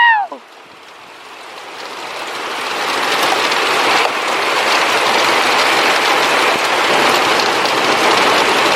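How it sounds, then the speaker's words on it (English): A heavy summer downpour pounds down hard and loud, building from a quieter start into a dense, continuous hiss of rain on surfaces that stays steady to the end. "It's raining so hard you can't really see the lightning"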